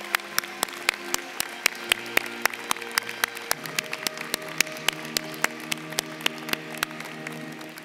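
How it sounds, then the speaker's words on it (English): Audience applause for the 2018 graduates of a postgraduate advanced dental education program at a commencement ceremony, heard as sparse, distinct individual claps in a steady scattered rhythm over a hall's faint murmur, with tonal sounds threaded underneath. "please recognize the class of 2018 graduates of the Postgraduate Advanced Dental Education Program with your applause"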